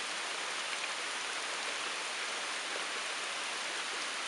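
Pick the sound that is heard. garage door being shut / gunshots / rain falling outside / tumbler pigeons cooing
rain falling outside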